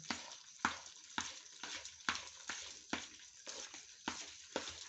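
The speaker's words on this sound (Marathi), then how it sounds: "आता एकाच डायरेक्शनने असं फेटून घ्यायचं" Milk cream being whisked in one direction to churn butter, a steady rhythmic series of wet slapping strokes about twice per second, close and fairly quiet.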